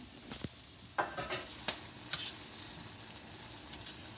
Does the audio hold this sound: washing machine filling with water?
no